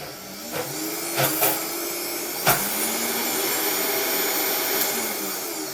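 A food processor whirs steadily, blending frozen banana and berries into a dessert, a continuous loud motor drone with a few sharp knocks as chunks hit the blade, no voices.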